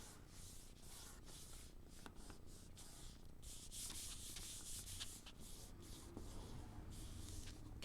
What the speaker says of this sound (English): trying to make it look like it's going to be even, smoothing it down